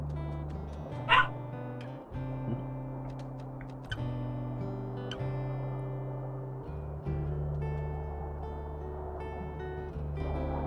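A coyote yips in the Wolf Quest 3 game, letting out a few short, high calls that stand out above a steady tonal game backdrop, with one sharper yelp early on.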